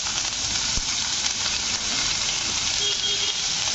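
Onion and green chillies sizzle steadily in a hot pan with whole spices, a loud, continuous frying hiss that holds from start to finish with no talk.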